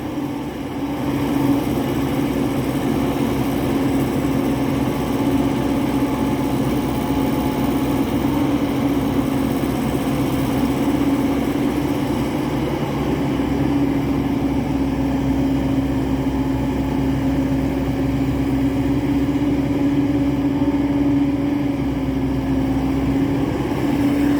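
A small engine with a broken exhaust pipe runs continuously nearby with a loud, rough, droning rumble that holds steady the whole time.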